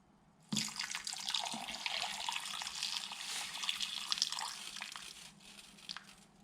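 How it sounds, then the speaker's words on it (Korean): Liquid poured into a camping toilet makes a steady splashing stream that starts abruptly, runs for about five seconds with faint crinkling, then trails off into drips, close and fairly quiet. "좀 더 부어 보도록 하겠습니다."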